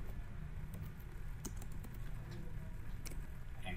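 Keys on a computer keyboard tap in a quick, light patter over a steady background hum, close and fairly soft, with no talking.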